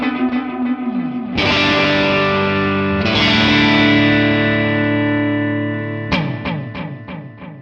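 Distorted electric guitar played through a Sound City One amp with heavy reverb, loud sustained chords ringing and decaying in a wash of echo, then a run of quick choppy strummed hits at the end, with no voices.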